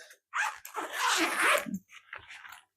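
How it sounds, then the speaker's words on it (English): A backpack zipper is drawn open in long rasping pulls, close and fairly loud, with short pauses between strokes and no talking. "And then I've also got this zipper back here."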